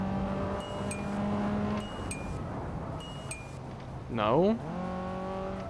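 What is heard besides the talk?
car braking hard into a corner in a video game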